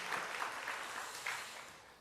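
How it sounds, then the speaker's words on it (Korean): A church congregation at a Sunday service claps in encouragement for newly appointed young members, a soft, distant patter of many hands that slowly fades toward the end. "일어나시면 박수로 격려하겠습니다"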